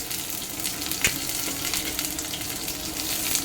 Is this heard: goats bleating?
no